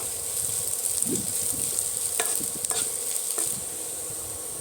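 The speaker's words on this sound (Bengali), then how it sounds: "পেঁয়াজের মধ্যে দিয়ে দেব তেজপাতা আর পাঁচফোড়ন একটু নাড়াচাড়া করে ভেজে নেব" Browned onions frying with bay leaf and panch phoron in a pan for a Bengali fish curry, a constant close sizzle with a few metallic spatula scrapes and stirring clinks.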